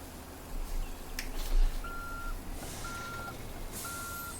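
Reversing beeps from a truck in Farming Simulator 19, three evenly spaced beeps over steady engine rumble on a maize silage field, with no talking.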